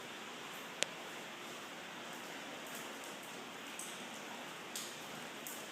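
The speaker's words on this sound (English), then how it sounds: "It was raining this evening" Rain falls steadily onto a back lanai in the evening, with water dumping in, a faint, even hiss with a few soft drips and one sharp tick near the start.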